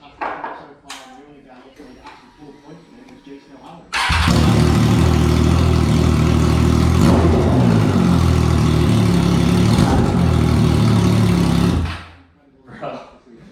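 A Triumph Daytona Moto2 765 motorcycle with a Spark exhaust starts and runs, a loud, steady, close engine roar that holds for about eight seconds before cutting off, with a voice and some clatter before it starts.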